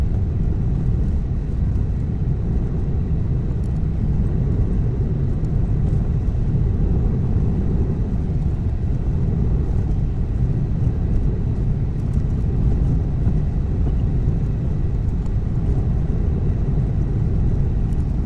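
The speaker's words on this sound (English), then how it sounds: "Towing a trailer, hands free, going up a curvy steep mountain" A Tesla electric car tows a trailer up a steep, curvy mountain road, making a constant low rumble of road and wind noise at an even level throughout.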